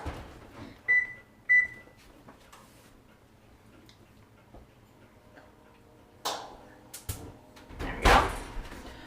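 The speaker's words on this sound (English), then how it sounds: "So I'm gonna turn my oven back on actually really quick" An oven being switched on, two short electronic beeps early on, then clicks and a brief mechanical clunk with rustling toward the end, close in a quiet kitchen, no talking.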